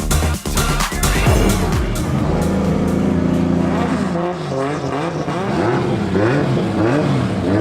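A Toyota Mark II with a 1.5JZ engine revs hard in the pits, loud and close, the engine note climbing and falling through repeated throttle blips and holding near the limiter.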